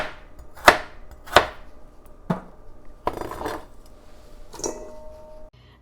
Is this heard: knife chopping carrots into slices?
yes